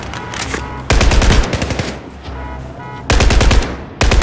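Loud machine gun fire in a first-person shooter video game, delivered as sustained rapid bursts with a couple of short pauses between volleys, close and dominant throughout.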